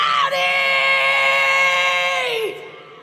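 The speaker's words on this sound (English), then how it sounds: "he screams for his dad in tears" Gohan, the anime character, screams for his father through tears: a single loud, sustained, high-pitched wail that holds for about two seconds, then breaks off and fades.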